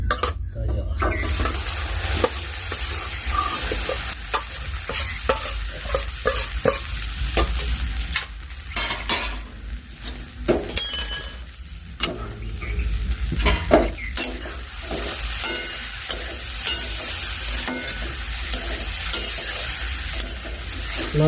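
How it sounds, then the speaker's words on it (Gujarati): Cumin and curry leaves temper in hot oil, a loud continuous sizzle and crackle with spoon stirring and occasional clinks of pots and utensils over about twenty seconds. "હવે સીધું વઘાર દેવાનું"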